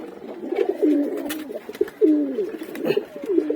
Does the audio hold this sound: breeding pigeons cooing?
yes